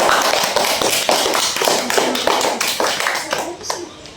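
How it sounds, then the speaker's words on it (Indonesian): A classroom of children clapping hands together in a lesson, a run of sharp, fairly rhythmic claps close by, some uneven, lasting several seconds. "beri tepuk tangan"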